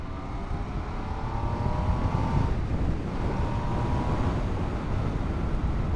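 An MV Agusta Turismo Veloce motorcycle cruises along the A2 road, its engine a steady, muffled drone buried under heavy wind rush on the microphone, with no clear gear changes.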